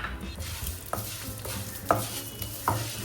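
Millet flattened rice (aval) roasts in ghee in a pan for payasam: a soft, steady sizzle with several distinct scraping stirs and knocks of the spoon over a few seconds.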